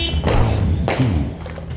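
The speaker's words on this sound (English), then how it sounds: "Yeah, just enjoy the fireworks out here." Fourth of July fireworks going off outside, heard as a few dull thuds and booms at a distance, one sharper crack standing out, with no talk over them.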